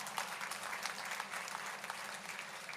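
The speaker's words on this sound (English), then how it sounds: "I request all of you to give a big round of applause to brand Sona." A crowd of students at a college freshers' day celebration applauds steadily, dense clapping sustained loud and close with no voices over it.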